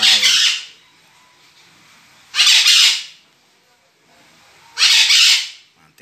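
Pet parakeets squawk in three loud, harsh bursts spaced about two seconds apart, each lasting around half a second, with quiet pauses between them.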